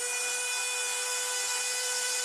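Micro flywheel motors of an MP9 replica foam blaster spinning up, a steady, high-pitched electric whine with strong tonal layers, close and continuous throughout.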